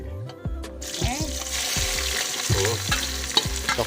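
Onion and tomato frying in a pan are stirred in a steady rhythm, each scrape of the spoon rising over a continuous close sizzle.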